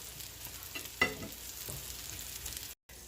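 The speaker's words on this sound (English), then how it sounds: "I've got the last 2 in the pan and they're frying away" Salmon cakes sizzle steadily in a hot frying pan, a soft continuous crackle with a brief scraping clatter near the start.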